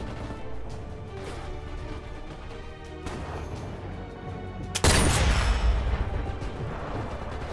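A sniper rifle shot in the Sniper Elite VR game lands as one loud, sharp blast midway, with a booming tail over a steady background bed.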